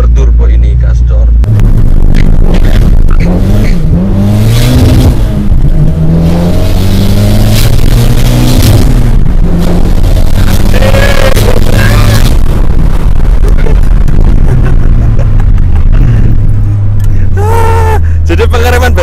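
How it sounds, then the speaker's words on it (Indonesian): Turbocharged Honda Civic pulls hard at full throttle, its engine note climbing in rising harmonic sweeps through several gears, loud and close, with a brief lull before revving again near the end. "langsung kita coba dari Civic berturbo ini gas door"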